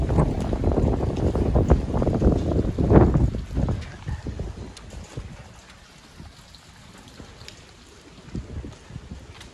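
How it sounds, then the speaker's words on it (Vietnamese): Typhoon Kong-rey striking Taiwan, gusting wind buffeting the microphone with a rushing roar that swells loudly early on, then eases to a quieter steady hiss of wind and rain. "mưa bão"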